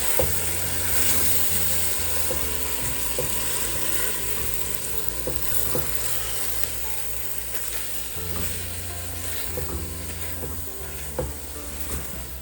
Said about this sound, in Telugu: ఈ మసాలాస్ అన్నీ వేసేసుకున్న తర్వాత ఒకసారి చికెన్ని మంచిగా కలుపుకోవాలన్నమాట